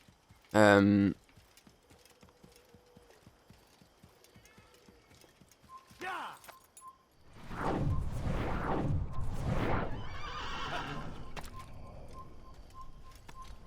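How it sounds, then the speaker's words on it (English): In Assassin's Creed, a sharp bird-like chirp, then a horse whinnies and hooves clip-clop in a steady galloping rhythm, loud and close, with faint game sounds around it. "get off the fucking horse"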